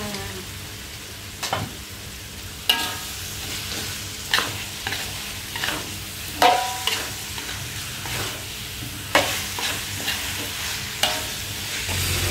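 Jengkol beans stir-fried in a pan for balado jengkol, a steady close sizzle broken by repeated sharp scraping and clattering strokes of a spatula at irregular intervals, with no talking.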